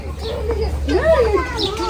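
Pigeons cooing at a zoo, a short rising and falling coo up close over a low steady hum, with children's voices and talk mixed in around it.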